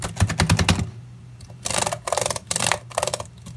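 Rapid bursts of clicky key presses on a ThinkPad T470s laptop keyboard, several clusters of close, crisp taps separated by short pauses, with a low hum underneath.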